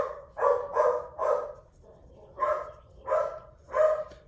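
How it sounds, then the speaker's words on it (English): A dog barks indoors, three quick barks, a pause, then three more at an even pace, sounding fairly close and clear, with nothing else heard. "And there goes Pippin to let us all know he's here"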